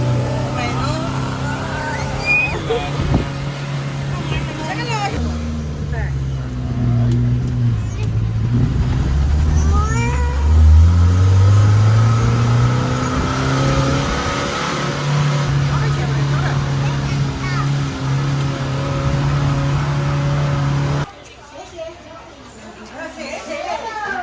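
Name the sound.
vehicle accelerating on a road in Wulong, Chongqing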